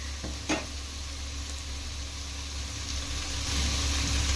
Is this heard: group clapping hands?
no